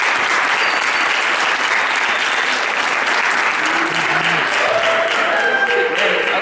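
A studio audience gives a big round of applause for a show's hosts and guests, a loud, continuous wash of clapping with faint voices under it.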